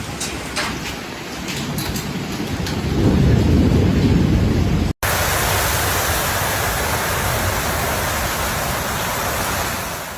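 A severe thunderstorm over Brisbane roars with heavy rain and high winds, a dense, loud wash of rain and gusting noise with a rolling rumble of thunder swelling near the middle, continuous and close.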